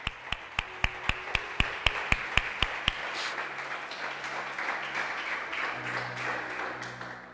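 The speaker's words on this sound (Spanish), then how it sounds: "Iglesia, dale un fuerte aplauso al Espíritu Santo" Church congregation applauding at a Spanish-language service, opening with about a dozen loud, evenly spaced single claps up close, then spreading into a softer, continuous wash of applause from the room.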